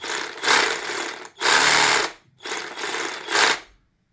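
A new cordless jigsaw runs unloaded in three short bursts of buzzing motor whine, each a second or so long, with clear gaps and a fade to silence at the end.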